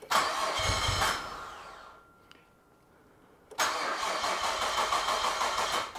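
A Nissan Skyline R34 engine cranks and runs roughly, cuts out into near silence, then catches again and keeps running unevenly, loud and close.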